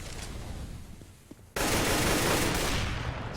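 Gunfire sprays through smoke in a Counter-Strike match on Mirage at a LAN semifinal, a sudden loud burst of rapid automatic shots that keeps rattling steadily to the end after a quieter lead-in.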